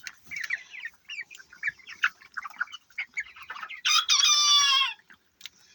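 Chickens on a poultry farm cluck and chatter in quick, irregular calls nearby, and a rooster crows loudly for about a second before the clucking resumes.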